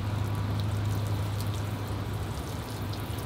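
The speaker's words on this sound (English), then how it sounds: "I'm watering and fertilizing, cooling the trees down on this hot day" Osage orange bonsai forest being watered with fertilizer-mixed water on a hot day, a steady close splashing and pouring rush with a low hum beneath, continuous throughout with no talking.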